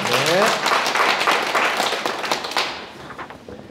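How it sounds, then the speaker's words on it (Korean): An audience at a Sunday lecture gives a big round of applause, dense clapping that starts strong over talk and then thins and fades out toward the end. "큰 박수 부탁드립니다"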